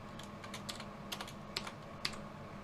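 Keystrokes on a computer keyboard while HTML code is typed, a steady run of light clicks with a few sharper taps, quiet and close with no talk.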